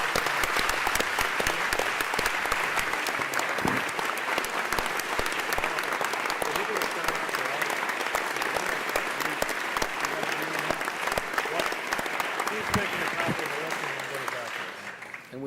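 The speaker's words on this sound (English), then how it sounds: "we should give them a round of applause too." Sustained applause fills a hearing room during a congressional committee markup of a health care bill, a dense, even clapping that carries on for many seconds before fading slightly at the close.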